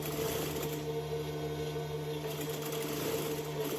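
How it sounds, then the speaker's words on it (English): A sewing machine runs steadily while stitching a plunging yoke neckline, its motor a continuous even hum with a faint rapid needle rhythm, close and alone. "So I'm sewing exactly on the same stitch line I used previously."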